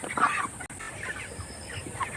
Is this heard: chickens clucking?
yes